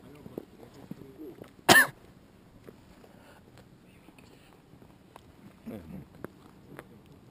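One short, loud cough rings out close by, then quiet background noise with a few faint knocks and a brief murmur of voices later.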